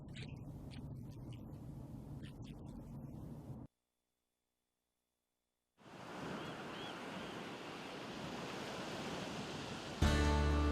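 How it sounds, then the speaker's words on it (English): Ocean surf rolls steadily along the Oregon coast, a continuous broadband wash of breaking waves that cuts out to silence for about two seconds midway, then resumes louder with a wind-buffeted burst at the end. "Is it the green and blue surf on a brilliant sunny day, or angry, boiling waves"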